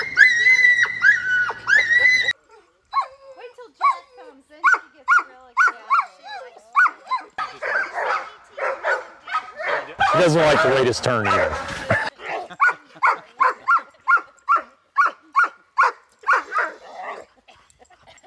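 Excited dogs, including a black Labrador, barking and yelping in rapid, repeated bursts close by on the way to a swimming spot, with high whimpers and a loud frantic stretch midway, while a person talks over them.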